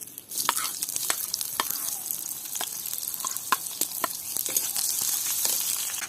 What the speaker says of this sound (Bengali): সরিষার তেল, তেলের মধ্যে দিয়ে দেব পেঁয়াজ কুচি